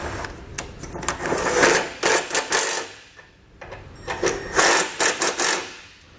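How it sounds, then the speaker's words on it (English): A 13mm socket tightening running board bolts and frame brackets on a 2018 Ford: close, rapid mechanical ratcheting comes in several short bursts separated by brief pauses. "Now the 13mm socket is going to tighten up the bolts on the bottom of the board as well as the brackets going into the frame."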